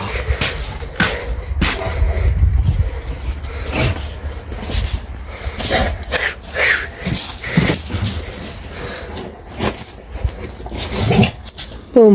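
A dog plays with its toys indoors, giving snuffling, panting and short whimpering noises mixed with scrabbling and toy handling, up close in irregular bursts.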